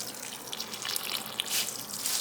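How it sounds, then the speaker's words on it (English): Water pours and splashes softly onto houseplants indoors, a faint, uneven trickle with small bursts. "Let's water the plants while I'm over here."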